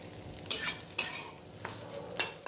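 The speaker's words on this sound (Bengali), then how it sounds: "সোয়াবিনটা ভেজে তুলে নিই" Soya chunks frying in oil in a pan hiss softly under a series of sharp scraping strokes from a spatula, about five distinct scrapes in quick succession, with no voices.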